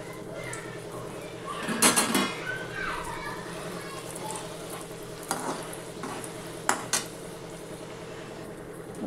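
Wheat-flour shankarpali fry in hot oil with a steady bubbling sizzle, broken by a few sharp clinks of a utensil against the pan and brief background voices.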